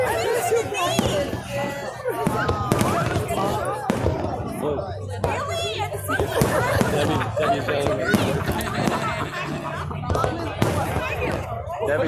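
Fireworks and firecrackers crackle and pop continuously in the background of a busy outdoor crowd, heard under steady chatter and nearby voices at moderate loudness.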